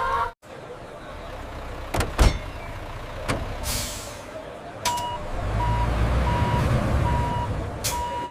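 A truck backs into an unloading dock at a fried chicken factory. Steady, evenly spaced reversing beeps sound over a low engine rumble, with a few sharp clanks and knocks earlier on.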